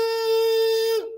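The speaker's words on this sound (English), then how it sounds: "I've got a little homemade kazoo." A homemade kazoo made from a toilet paper roll and wax paper, with finger holes, sounds one steady buzzing hummed tone, close and fairly loud, before it cuts off abruptly.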